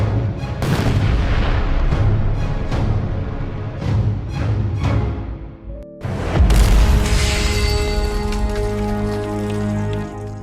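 A cannonball fires in a Castle Crashers-style PowerPoint battle game, with loud, dense booming blasts and crackling impacts filling the whole stretch, a brief drop near the middle before a heavier explosion and ringing tail.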